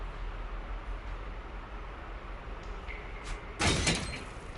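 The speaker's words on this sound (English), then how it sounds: "Open the door." A door swings open in Watch Dogs Legion inside the House of Commons: a short, bright rush of noise near the end over a steady low background hum.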